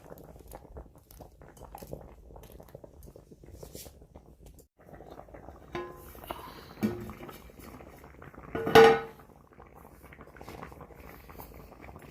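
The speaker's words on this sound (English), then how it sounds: "Our boiled stew is here cooking well." Smoked fish, okra and cassava stew bubbling in a pot over a village cooking fire, a soft steady simmer with faint crackles and a brief louder clatter near the end, no voices.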